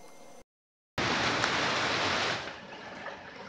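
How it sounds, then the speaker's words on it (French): Rain falls in a garden during a thunderstorm: a dense, steady hiss that starts abruptly after a brief silence, then eases slightly toward the end. "Ça y est, enfin il pleut"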